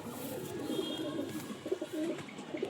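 Pigeons coo softly and repeatedly while being handled by a breeder showing birds for sale. The low, murmuring coos sit close against a busy background hum, with no speech.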